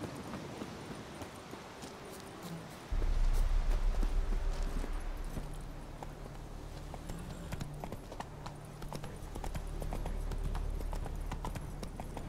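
Roach, the horse in The Witcher 3 video game, trotting with a steady clip-clop of hoofbeats. A low rumble joins in after a few seconds and the hooves keep an even rhythm throughout.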